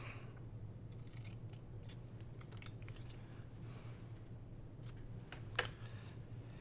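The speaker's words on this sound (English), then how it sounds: "I'm just going to cut one of these out and use it." Scissors snipping out a small paper word label, quiet and close, a few soft crisp cuts scattered over a low steady hum, with one sharper snip standing out near the end.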